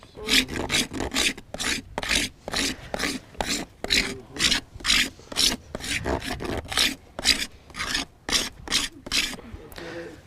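Knife scraping shavings from a fatwood lighter knot in a rapid rasping rhythm of about two strokes per second, each a bright dry scrape, steady and close for the whole stretch.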